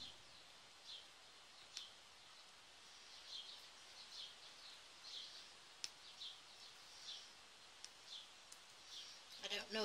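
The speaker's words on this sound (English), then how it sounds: "hear the little birds outside." Faint small birds chirping in the distance outdoors, scattered short tweets over a quiet background hiss.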